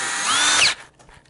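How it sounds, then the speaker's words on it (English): A power drill whines loudly for under a second as it drives a screw on a Harley Twin Cam during carburetor rejetting, then cuts off abruptly into quiet. "now they're on with the drill"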